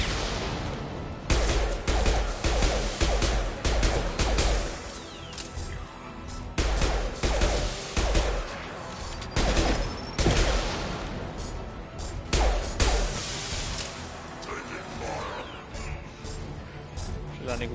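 A heavy mech fires in Mass Effect 2, giving dense bursts of gunfire and explosive crashes that repeat throughout with brief lulls between volleys.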